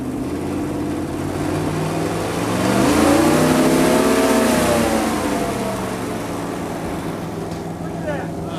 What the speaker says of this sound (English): You're going to rev it up now.